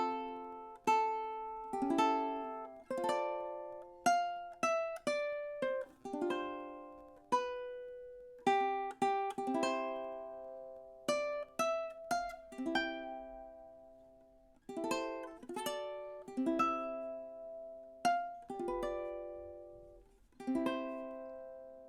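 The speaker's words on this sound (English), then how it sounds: "let's go ahead and play through this sort of last section, starting with measure 18, going through the end" Ukulele playing the closing section of The Star Spangled Banner from measure 18 to the end, a slow series of plucked and strummed notes and chords, each ringing out and decaying, played close and alone.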